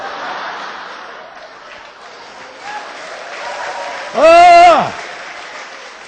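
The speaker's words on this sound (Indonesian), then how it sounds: "Yo orang tepuk tangan" Brief burst of audience applause in a church service, rising suddenly and lasting under a second amid low room noise and a short spoken exclamation.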